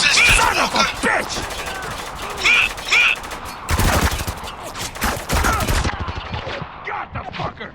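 Heavy automatic gunfire rages in the war shooter Spec Ops: The Line, with loud overlapping bursts, sharp cracks and crashing impacts in a continuous barrage, with brief ricochet-like whines and shouting voices mixed into the fight.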